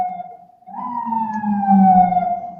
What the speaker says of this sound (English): Yes, there's a police siren outside my apartment.